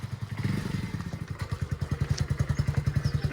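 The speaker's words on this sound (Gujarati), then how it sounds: "તો અમારા જયુભાઈ બાઇક ટેસ્ટ કરી લીધું." A motorcycle engine putters close by in a steady, rapid thumping rhythm, growing slightly louder as it revs and pulls away.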